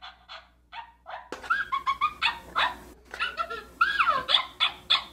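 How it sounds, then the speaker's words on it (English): A Cookeez Makery scented plush toy plays an electronic dog sound, with a string of short sharp barks and yips broken by brief whimpers, loud and close, in rapid bursts with small gaps. "Let's hear that sound. It's a dog."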